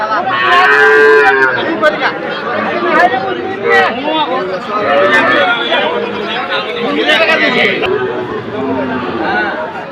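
Calves and cattle moo repeatedly at a busy village livestock market where Sahiwal bulls are sold. Loud bellows overlap with a crowd of people talking close by.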